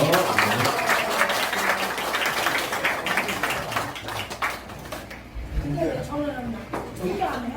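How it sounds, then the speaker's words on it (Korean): An audience at a fifth-anniversary festival celebration applauds, dense clapping at first that gradually thins and fades while a voice talks over it and continues after the clapping dies down. "박수 한번 주시죠"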